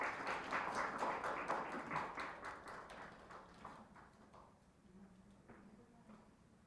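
Audience applause at a rural schools forum in Haenam, welcoming the local education superintendent to the stage; dense clapping fills the opening seconds, then thins and fades into scattered claps and room noise.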